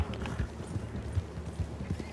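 Horse hooves clip-clop steadily in Red Dead Redemption 2, a rhythmic trot of soft thuds over low ambient noise, fairly close and moderately loud, with no clear neigh standing out.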